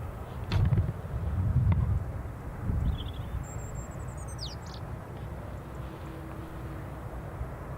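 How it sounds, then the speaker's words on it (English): A few short bird chirps and a thin whistling call ring out in the distance over quiet outdoor ambience at Newcastle International Airport, with soft low thumps early on. "Birds are starting to sing a little bit."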